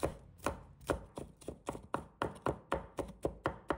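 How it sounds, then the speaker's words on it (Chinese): A knife mincing crushed garlic cloves on a cutting board, with about a dozen close, crisp chops falling in a steady, even rhythm. "再准备几个大蒜，把它拍碎。 然后把它切成末。"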